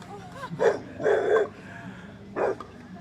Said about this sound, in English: Now there's a puppy that you can hear.